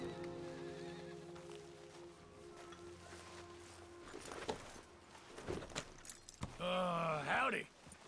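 A horse in Red Dead Redemption 2 gives a loud, close whinny near the end, rising and falling in pitch, after soft hoof clops and a steady low game ambience, with a voice talking earlier.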